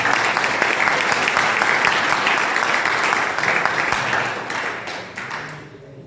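An audience at an engineering lecture claps loudly and continuously in warm, dense applause, which tapers off toward the end with no voices over it.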